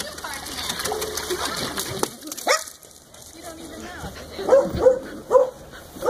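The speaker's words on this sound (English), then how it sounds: "These hounds are barking like crazy today, huh?" Hounds bark indoors in a small room, a burst of close, sharp barks and yips coming in quick succession after a quieter stretch.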